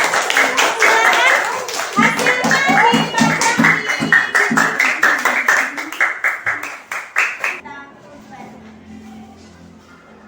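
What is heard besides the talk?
class clapping for group 2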